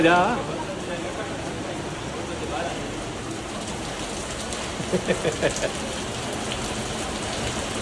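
Steady night rain in Mumbai hisses across surfaces in a continuous wash, with a few brief louder taps midway and a voice briefly audible.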